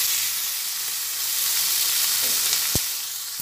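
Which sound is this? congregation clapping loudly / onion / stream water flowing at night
onion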